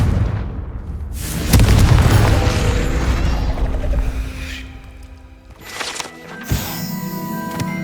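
Confringo spell blast in Hogwarts Legacy: a loud booming explosion that swells after a brief lead-in, rumbles and fades, followed by a couple of smaller pops and mechanical clatter near the end.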